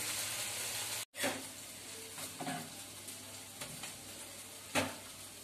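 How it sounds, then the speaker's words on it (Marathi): Malvani okra vegetable cooking uncovered on a low gas flame: a soft, steady sizzle of frying with occasional louder scrapes and clatters from stirring, no talking. "स्लो गॅसवरती ही भाजी आपण शिजवून घेऊया."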